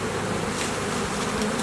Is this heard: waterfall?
no